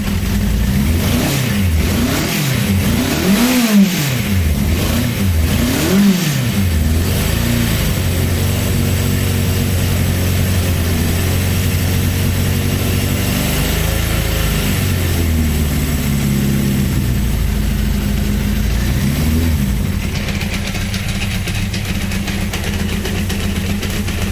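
A 1983 Yamaha XJ 900 motorcycle engine runs close and loud throughout, with several rising and falling revs early on before settling into a steady, rumbling idle.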